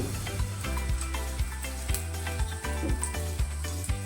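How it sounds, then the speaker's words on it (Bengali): Cauliflower parathas fry in a pan, a close, steady sizzle of oil crackling continuously with soft irregular pops, with no talk over it. "আমি এই করে এক এক করে সব কটা পরোটা ভেজে নেব।"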